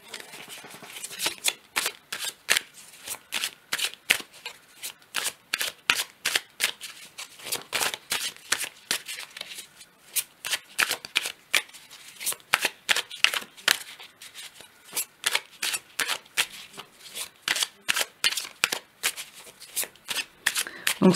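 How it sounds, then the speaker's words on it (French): Tarot-style cards for a reading are shuffled and drawn by hand, a rapid run of crisp riffling flicks and slaps repeating throughout, close and clear, with only faint speech. "Donc, on va tirer les cartes comme elles viennent."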